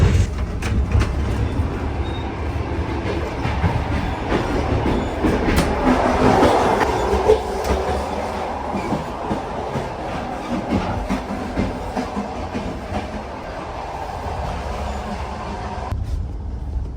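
A long-distance Russian train from Saratov to Krasnodar rumbles steadily along the rails with rhythmic clacking and a constant low drone, heard from inside a carriage for a long stretch.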